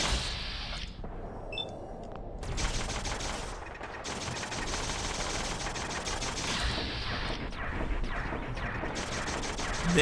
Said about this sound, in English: They are actually shooting at something else.